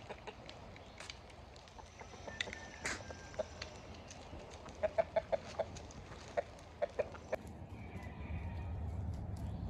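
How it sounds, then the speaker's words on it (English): Backyard chickens cluck while being offered food scraps containing small bones: a run of short, soft clucks through the middle, set over a steady outdoor background hum with no talking. "So we're gonna see what the chickens do to it."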